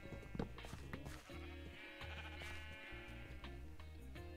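Sheep bleating in Minecraft, a short blocky game-style bleat heard over a steady musical backdrop with repeated tones, fairly quiet overall.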